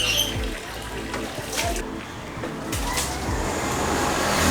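Water is poured by hand from a dipper to rinse down a scooter, with no hose: a few close, uneven splashing pours over a steady wash of water and faint background rumble.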